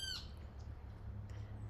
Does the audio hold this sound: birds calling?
yes